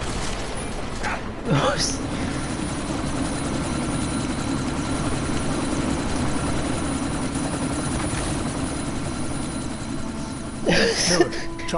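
Helicopter rotor drone from the video game Deus Ex: Mankind Divided during a sandstorm, a steady throbbing whir that holds loud and continuous, with short rustling bursts near the start and end.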